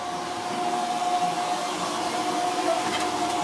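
Hobart commercial dishwasher running in a restaurant kitchen, a steady broadband whir and spray with a constant high tone, loud and unbroken throughout with no talk.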